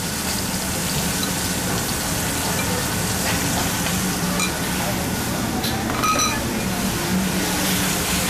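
A pan sauce of binacli tuba and coconut milk reduces with a constant, even sizzle and bubbling hiss that fills the whole stretch at moderate volume.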